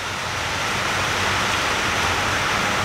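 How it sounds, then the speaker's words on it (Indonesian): Steady, dense rain falls outdoors as a constant loud hiss with no pauses and no voices. "Hujan je hujan."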